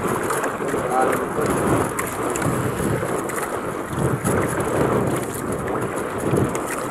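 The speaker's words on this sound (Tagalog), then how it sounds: "Malakas ang hangin dito." Steady, heavy wind roaring across the microphone outdoors while fishing, broad and continuous with gusty surges, near open water.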